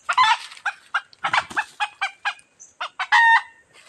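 Red junglefowl (labuyo) crowing and clucking nearby, a run of short sharp calls ending in a longer sustained crow, loud and clear with no speech over it.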